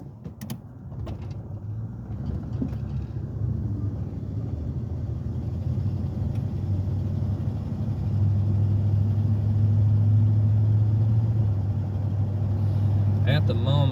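A 1979 Lincoln car driving, a steady low engine rumble and road noise from inside the cabin that swells gradually, with a person speaking over it.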